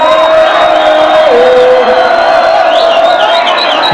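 College students at a DJ event, packed together and shouting and cheering loudly in a dense, sustained roar, with a steady tone and rising whoops over the noise.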